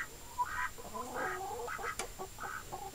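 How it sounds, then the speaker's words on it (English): Backyard chickens and roosters clucking in a busy, overlapping flock, a string of short calls near the listener with a sharper squawk partway through. "People who used to live here before actually had roosters and chickens."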